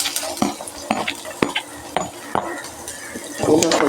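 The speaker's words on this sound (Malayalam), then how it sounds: "ചെറുതായിട്ടൊന്ന് മൂത്ത് കഴിഞ്ഞാൽ നമുക്ക് കൊച്ചുള്ളി ഇട്ട് കൊടുക്കാം." Small onions stirred and sautéing with urad dal in a pan, with repeated sharp clinks of a spoon against the pan over a soft sizzle.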